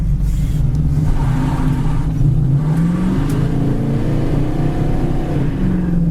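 A 1970 Dodge Challenger with a 318 V8 and dual exhaust pulling away on a foggy road, the engine note climbing and falling through the gears in a loud, close, rumbling bark with no talk.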